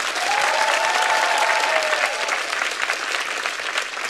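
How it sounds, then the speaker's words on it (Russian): Studio audience applause at a televised comedy show, dense and sustained for several seconds, loud and even, with no one speaking over it. "Эти аплодисменты вам."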